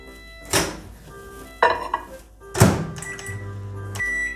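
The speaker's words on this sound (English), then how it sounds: "And we'll microwave it for 1 minute." Microwave oven heating a gingerbread mug cake: a few sharp thunks and clatters of the mug and door, then a low steady hum as the oven runs near the end, close and without talking.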